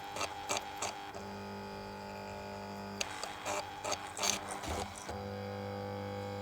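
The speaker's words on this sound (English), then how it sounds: "it's an amplified sound that would normally play a speaker, but I'm playing it through a motor" An amplified recording of environmental sounds is played through a small motor, giving a buzzy mechanical whir with steady tones, clicking ticks and rattling bursts at moderate closeness, with no voices.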